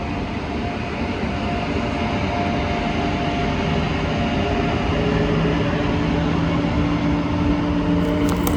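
A goods train rumbling steadily past a halted Indian express train, the Dakshin Express, as a close, continuous roar of wheels and wagons with no voices.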